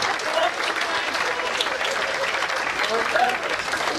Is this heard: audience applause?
yes